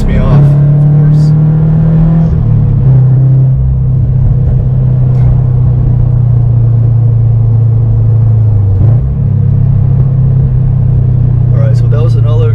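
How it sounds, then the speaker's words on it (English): A naturally aspirated Subaru BRZ running on E85 accelerates from a standstill to 60 mph, its engine droning loud and steady from inside the cabin as the pitch climbs through the gears, with a brief shift dip partway. "that was another acceleration from 0 to 60"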